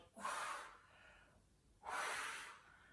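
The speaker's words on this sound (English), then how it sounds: "You're breathing out each time you push your fingers forward." Two forceful exhalations through the nose during a stretching class, each a short breathy rush about 1.5 seconds apart, close and distinct in an otherwise quiet room.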